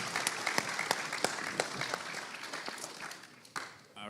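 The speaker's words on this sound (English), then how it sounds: "we should clap for that." Conference audience applauding in a hall at a security event, a dense burst of many hands clapping that gradually thins and fades toward the end.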